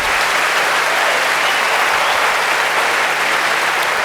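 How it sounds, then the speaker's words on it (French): Loud, dense applause from an audience honouring parents at a ceremony, a steady wash of clapping with no break. "Des applaudissements forts pour les parents."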